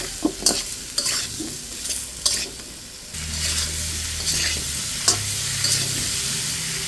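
Raw green banana pieces are stirred in a pan of hot oil for a hilsa curry with no onion or garlic, giving scraping spoon clicks and bursts of frying over a steady sizzle that grows louder midway, with no talking.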